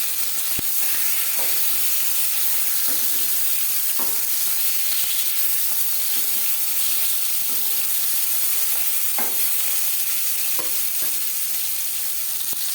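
Rui fish pieces frying in hot oil make a loud, unbroken close-up sizzle for the whole stretch, with occasional faint pops and clicks, and nobody speaks.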